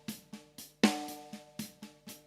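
Snare drum with EQ boosting its fundamental and cutting some harmonic range, struck in a steady run of evenly spaced hits with a short ringing body; one hit lands noticeably harder, all fairly quiet with no voices.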